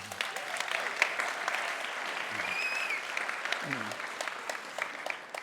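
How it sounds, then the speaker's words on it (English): An audience at a startup demo day applauds, a steady wash of clapping heard at a moderate distance, with a few faint voices under it. "Guys, give it an applause."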